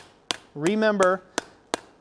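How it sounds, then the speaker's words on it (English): Hammer blows on a bright-orange hot hollow steel tube during blacksmith forging of candlesticks, sounding as four sharp, evenly spaced metallic strikes, with a person's sustained voice between them. "Hammer nice and even."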